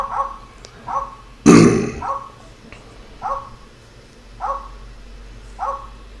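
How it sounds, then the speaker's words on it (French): A poodle in The Secret of Monkey Island video game gives short repeated yips and barks at a regular pace, with one louder burst of noise early on, against a faint low game background hum. "On va pouvoir tout simplement donner la viande assaisonnée au caniche."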